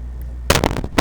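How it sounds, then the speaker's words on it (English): Fireworks in the Crossout online vehicle combat game: a sudden cluster of sharp pops and crackling bursts after a quiet hum, several rapid reports followed by one more loud pop near the end. "Fireworks are going off."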